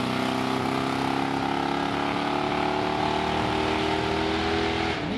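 A supercharged Studebaker R2 Avanti roars down a drag strip, its engine pulling hard and steadily with rising harmonic whine throughout, loud and close, ending as the run fades.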